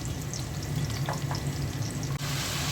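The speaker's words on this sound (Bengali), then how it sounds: "মশলাটা কষিয়ে নিলাম।" Spice paste sautéing in a pan for a Bengali curry with tangra fish, a steady close sizzle and crackle with a couple of brief scraping stirs, no voices.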